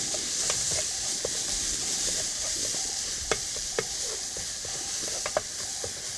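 Meat sizzles steadily in a pan as Korean rice wine (cheongju) cooks off, a dense constant hiss broken by a few sharp clicks of utensils against the pan, with no talking.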